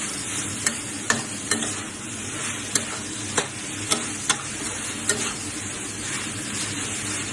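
Minced chicken stir-fried dry-style with holy basil in a pan sizzles steadily, and a spatula scrapes and clacks against the pan at irregular intervals.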